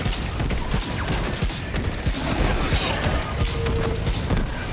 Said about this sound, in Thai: ระวังระเบิด500กิโลกรัม